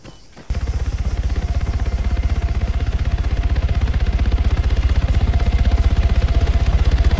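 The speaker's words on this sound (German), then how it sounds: "Helikopter warten, okay." Helicopter in the Arma 3 military simulation game, its rotor starting after a brief quiet moment and then pounding in a loud, steady, rapid thump that builds slightly and continues to the end, with no talk over it.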